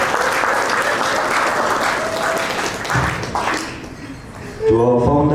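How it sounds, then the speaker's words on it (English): Audience applause fills the room at a club's 70s/80s themed annual ball, a steady wash of clapping that fades briefly before a voice speaks over it near the end. "That's where you clap."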